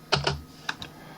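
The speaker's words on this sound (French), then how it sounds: "Voilà, espace au clavier." A quick cluster of keyboard clicks: two keystrokes in fast succession, then two lighter taps, crisp and close.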